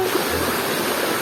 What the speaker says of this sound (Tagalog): So yan, falls po yan.